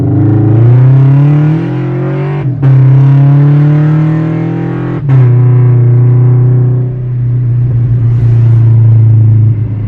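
A loud, raspy exhaust from a Toyota 86/Subaru BRZ with an uncatted unequal-length header drones steadily at idle and low revs, with two brief dips before settling into a rough rumble.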